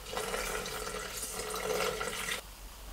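Water poured into a Thermomix bowl while making a stain-removal paste: a steady splashing pour that runs for a little over two seconds and then stops abruptly.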